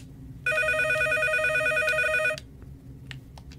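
A telephone rings in the video game Case 2: Animatronics Survival, one loud electronic trilling ring lasting about two seconds over quiet ambient background, then it stops.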